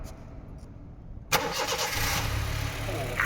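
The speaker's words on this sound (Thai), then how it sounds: "เดี๋ยวสตาร์ทเครื่องให้พี่ฟัง" After a quiet moment, a 2012 Honda City engine cranks and fires, then settles into a steady, quiet idle close by.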